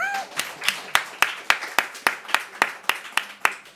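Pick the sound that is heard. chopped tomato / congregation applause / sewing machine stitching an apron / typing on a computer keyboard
congregation applause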